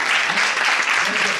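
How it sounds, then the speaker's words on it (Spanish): Audience applause following a call to applaud the government, a dense, steady wash of clapping at even loudness throughout, fairly close and filling the room. "Un aplauso para nuestro gobierno"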